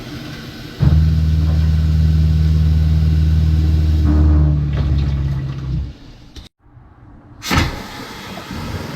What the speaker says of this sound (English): we want to go ahead and open up all of our faucets on the cold side